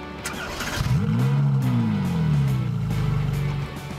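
A car engine revs up with a rising, sweeping roar, then settles into a lower drone before fading.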